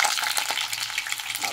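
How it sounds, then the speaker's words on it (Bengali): Chhana (cottage cheese) balls fry in white refined oil in a kadai, giving a steady bright sizzle and crackle with small pops, moderately quiet and unbroken, with no voices. "ছানার বড়াগুলোকে আমি একটু বেশ লালচে লালচে করে ভাজবো"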